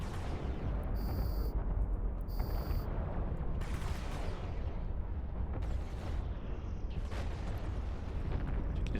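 Ship weapons firing in EVE Online during a Harbinger fight, a steady wall of booming, rumbling blasts and bursts with no break, laced with short high electronic tones from the game.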